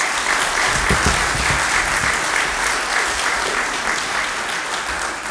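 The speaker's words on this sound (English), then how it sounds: "Let's give him a round of applause." Sustained applause from an audience welcoming the Governor of Guam to the podium at a public event, steady and dense for several seconds with no talk over it.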